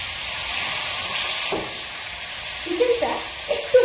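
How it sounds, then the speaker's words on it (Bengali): Chicken pieces shallow frying in a pan, a steady close sizzle and hiss throughout with a few clinks of stirring near the end. "টেন পার্সেন্ট মতো একটু ভাজা ভাজা হয়ে যাবে স্যালো ফ্রাই"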